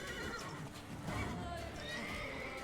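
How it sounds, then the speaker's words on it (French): Horse in The Witcher III whinnying amid game noise, with a shrill neigh riding over hoof clatter and rumbling action, fairly faint overall with a voice talking over it. "Pourquoi j'attaque le cheval?"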